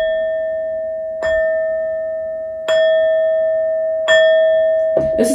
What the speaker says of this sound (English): These next four bell sounds are to align us and to bless your reading.